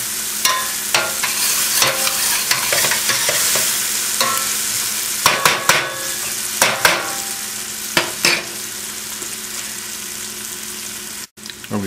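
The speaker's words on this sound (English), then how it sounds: "just sweat them up, get the onions soft." Onions sweating and frying in a pan for lobster fra diavolo, a steady sizzle broken by repeated stirring scrapes and clanks, close and fairly loud, with no talking.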